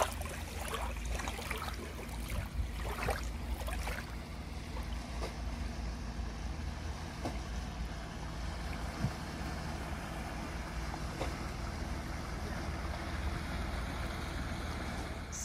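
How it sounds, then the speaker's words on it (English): Boats pass on open water: a steady low engine drone over lapping water and a light breeze, with a few faint knocks early on. "And more boats coming"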